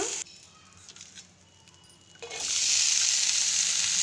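Spinach leaves and tomatoes cooking in a pan for a spinach chutney, a quiet stretch giving way to a loud, steady sizzle that fills the last half.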